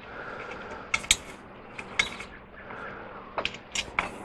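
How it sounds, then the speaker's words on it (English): A bolt head spun by hand on a homemade sawmill's saw head lift gives off close metallic clicks and small rattles in irregular bursts, with short quiet gaps between them. "and then spin the head of the bolt"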